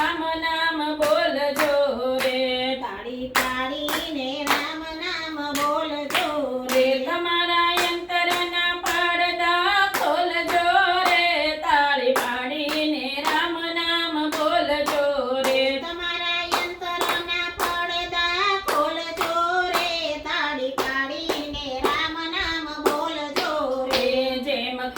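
Hands clap in a steady rhythm through a devotional Gujarati bhajan, with sharp claps repeating every second or so over continuous singing voices and accompanying music.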